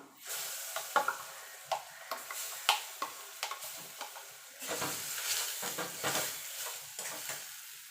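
Lentils tipped into hot oil with asafoetida and turmeric, a crackling sizzle broken by sharp clicks and spatters of stirring, close and fairly loud without talk.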